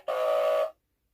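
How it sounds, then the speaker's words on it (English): A toy sound machine lets out a single steady electronic fire-alarm tone, loud and close, holding for about two-thirds of a second before cutting off into silence. "Sounds like a fire alarm."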